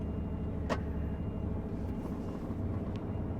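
Inside the cab of an American-made truck fitted with a Scania engine, a low, steady engine drone hums as the rig pulls away gently, smooth and even at moderate volume, with a brief click partway through.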